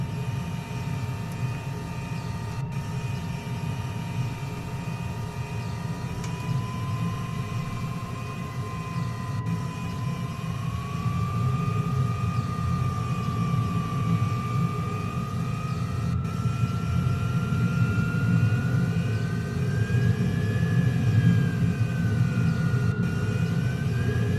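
A De Havilland DH.112 Venom jet with a De Havilland Ghost engine in Microsoft Flight Simulator gives a steady, loud turbine roar with a whine that slowly rises in pitch as it powers up toward takeoff, with no talk.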